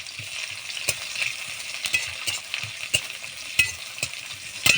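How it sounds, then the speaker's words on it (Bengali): Chopped onions sizzle in hot oil in a pan, with a steady broadband hiss and a few sharp scrapes and knocks as they are stirred, close and fairly loud, no talking. "তেল গরম হয়ে গেছে, পেঁয়াজ দিয়ে দিচ্ছি"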